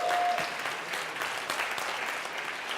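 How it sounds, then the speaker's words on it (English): Audience applause fills the hall, a dense, steady wash of clapping from a large crowd at a talk or seminar, holding at an even level for a few seconds. "give them a round of applause"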